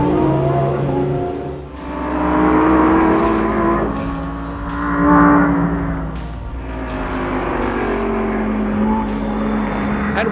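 A Lamborghini Huracan STO on a race track roars through repeated revs and gear changes, its atmospheric exhaust note rising and falling close by with sharp shift cracks.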